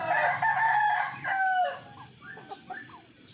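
Chickens cluck and call close by, a rooster-like crow at the start followed by several shorter clucks.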